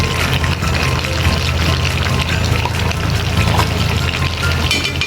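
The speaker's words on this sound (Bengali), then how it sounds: "এখন এটাতে একটু পানি দিয়ে" Water is poured into a pot of gourd, potato and chicken curry, a steady pouring and splashing wash with a faint sizzle underneath that runs evenly through the whole stretch with no talking.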